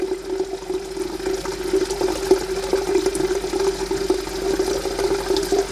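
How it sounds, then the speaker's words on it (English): A kitchen tap runs steadily into a pot for boiling, a loud, continuous rushing stream with a bright resonant tone as the pot fills over several seconds. "I am gonna go ahead and get some water to boil"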